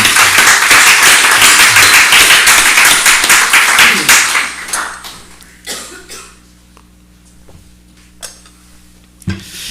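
Congregation clapping in a Baptist church service, loud and sustained for about four seconds, then stopping abruptly, leaving a quiet room with a low hum and a few stray coughs and knocks.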